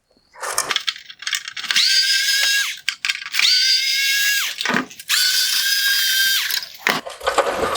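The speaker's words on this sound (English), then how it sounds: "Next, I'm going to remove a couple of T10 screws holding on the bottom plastic bracket." An electric screwdriver backs out T10 screws from the plastic lower bracket of a 2013-2017 Range Rover xenon headlight, with three separate high whirring bursts of a couple of seconds each, separated by short clicks and handling noises, close and loud.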